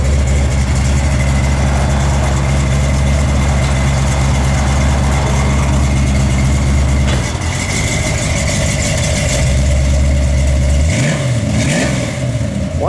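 A 1967 Ford Mustang V8 with an Edelbrock kit idles with a deep, steady rumble, then revs sharply several times, the engine rising and falling loudly and close.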